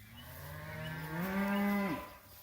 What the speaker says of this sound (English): A bunch of those cows got stuck up in that corner.